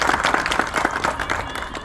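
Villagers gathered in a village meeting clap together, a close, moderately loud burst of uneven hand claps that fades slightly toward the end.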